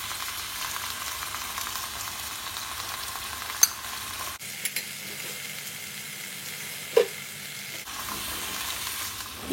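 Shrimp and broccoli with seasoning stir-fry in a hot pan, giving a steady close sizzle with occasional scrapes and clinks of a utensil, the frying noise dropping and swelling as ingredients are tossed.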